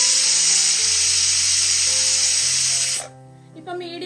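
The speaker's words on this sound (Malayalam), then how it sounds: "ഇപ്പൊ മീഡിയം ഫ്ലെയിമിൽ 3 വിസിൽ ഇതാ കേട്ടിട്ടുണ്ട്" A pressure cooker on a stove at medium flame gives a loud, steady rushing hiss of escaping steam for about three seconds, then stops abruptly; a voice follows in the quieter room.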